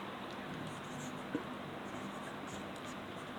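A teacher writes on a classroom board in a steady, faint scratching stroke under room noise, with one brief tap near the middle.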